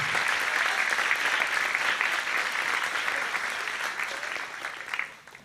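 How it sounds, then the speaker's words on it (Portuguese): A church congregation applauding during a celebration service, a broad wash of steady clapping that holds evenly, then thins and fades out near the end. "Glória a Deus, aplauda ao Senhor."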